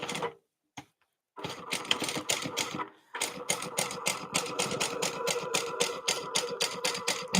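A sewing machine stitches a passport wallet in quick rhythmic bursts of needle chatter, stopping briefly near the start before running steadily and close.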